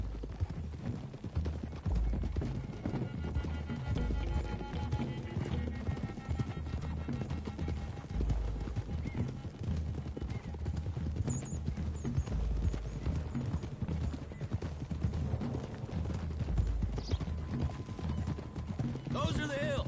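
Horses' hooves clip-clop in a steady trotting rhythm over a dirt road in Red Dead Redemption 2, with occasional whinnies and a voice talking over the riding.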